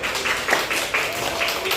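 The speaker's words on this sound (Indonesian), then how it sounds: "kita beri tepuk tangan untuk kelompok matahari" Pupils in a classroom give a short round of applause for a student group, a brief soft patter of claps blurred by the room.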